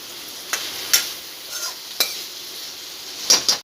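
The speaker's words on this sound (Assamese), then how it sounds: "তেনেকুৱাকৈ পটাচপাত অকণমান লৰাই থাকিব।" A spatula stirring chicken curry in a wok, a soft frying hiss broken by several sharp metallic scrapes and clinks at irregular intervals, close and moderately quiet, no talk.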